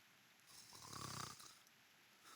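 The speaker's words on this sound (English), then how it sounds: "What we want to know is how an apple can snore." Snoring attributed to an apple, a single drawn-out snore swelling and fading over about a second, quiet and alone with no talk.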